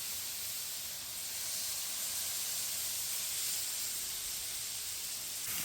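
A loud, continuous hiss of steam and sizzling from steak and shrimp cooking on a Blackstone griddle runs unbroken throughout, close and steady with no voices.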